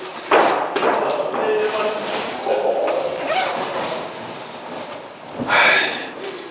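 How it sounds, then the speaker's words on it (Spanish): Steady rain falls and patters on surfaces outdoors in Montenegro, a continuous wash of drops with louder bursts, while people talk over it. "está visto que no para de llover"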